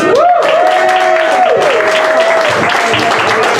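A live comedy night crowd applauds a comedian, with steady dense clapping and a few whoops or shouts rising over it, filling the room up close throughout.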